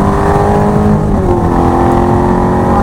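Ferrari 430 engine pulling hard on a wet Mugello circuit, a loud, continuous close-up roar with steady tone through the whole span.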